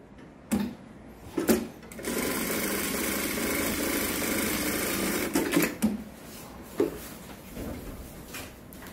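An EZ-L industrial sewing machine sews a design stitch with a continuous motor hum. Sharp clicks and clacks break in at intervals, and the machine pauses and restarts between runs.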